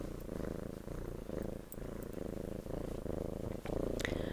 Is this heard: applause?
no